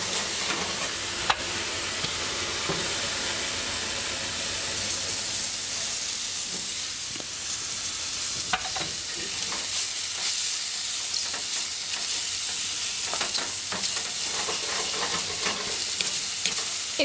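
Ginger and fresh garlic fry in toasted sesame oil for a vegan spicy miso ramen, a loud, continuous hissing sizzle broken by occasional scraping stir clicks and sharp pops.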